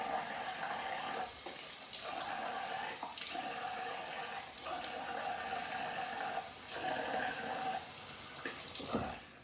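Tap water runs steadily into a sink while a shaving brush is rinsed, a continuous close splashing stream with brief bursts of heavier flow near the end, no talk.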